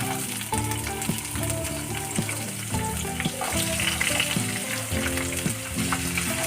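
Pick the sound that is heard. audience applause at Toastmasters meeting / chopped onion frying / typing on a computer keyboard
chopped onion frying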